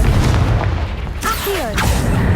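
A Confringo spell explodes in the video game Hogwarts Legacy: a deep, loud boom with a rumbling tail, set among game effects and brief whooshing tones.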